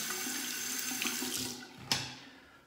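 A tap runs steadily into a sink as a double-edge razor is rinsed, a close rushing splash with a brief clack near the end, no talking.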